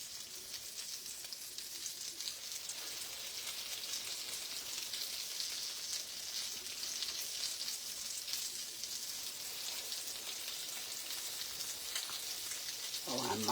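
A pan of vegetable oil and butter on low heat sizzling steadily, a soft even crackle like light rain that holds from start to finish with no talking.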